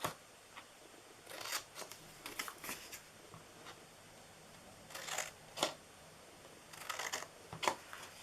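Scissors snip through paper for a DIY mini pie bakery box: quiet, close, crisp cuts come in short irregular clusters against a near-silent room.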